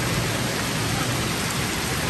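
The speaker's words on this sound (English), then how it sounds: "Finally get some good old breeze and some rain." Steady heavy rain pours during a Florida squall out on the water, a dense, loud hiss with no breaks and no talk.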